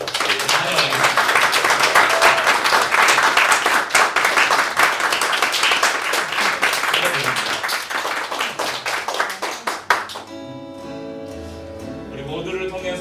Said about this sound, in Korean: 힘찬 박수로 환영하겠습니다.